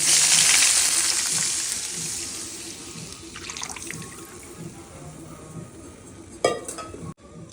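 Steady, dense sizzling of green chillies frying in hot oil fills the clip, loud at first and easing slightly, with a couple of sharp clinks near the end.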